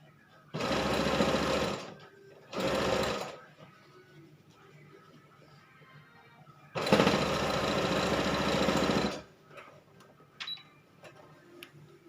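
A sewing machine stitches the inner lining of a child's jacket in three bursts: two short runs of whirring rhythmic stitching, then a longer steady run, with quiet gaps and light handling noises between.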